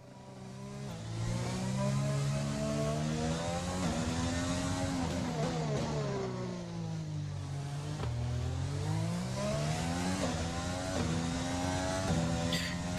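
An onboard Super Formula race car engine in a racing video game screams steadily at high revs, its pitch dipping and climbing repeatedly through gear changes and corners, moderately loud and continuous without talk.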